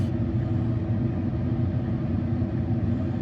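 A Tesla Cybertruck's battery cooling fan runs hard after a big charging session while the truck waits in traffic, giving a loud, steady whirring hum that never changes, with no talking.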